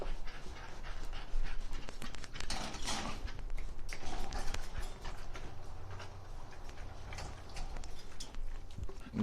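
A tired big dog panting steadily at close range after a morning walk, with light shuffling and background movement around it and no talking.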